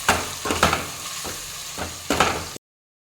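Chili powder is stirred into chicken curry frying in a pan: a spoon scrapes in several rhythmic strokes over a continuous close sizzle, which cuts off abruptly near the end.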